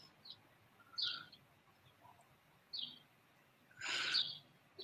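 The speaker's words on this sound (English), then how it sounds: "I've got a bunch of noisy birds just out the window" Several short chirps from birds just outside a window, spaced apart at moderate distance, with one louder burst of calling near the end over a quiet room background.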